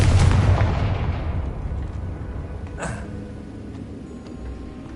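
A Confringo fire spell explodes in the Hogwarts Legacy video game with a heavy booming blast that rumbles and slowly fades, followed by a brief whooshing flare partway through.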